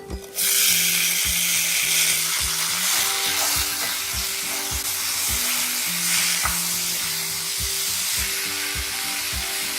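Chopped tomatoes drop into a hot pan with roasted red chilies and burst into a loud, steady sizzle, with rhythmic scraping strokes of a spoon stirring throughout.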